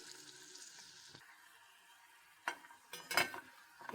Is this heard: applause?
no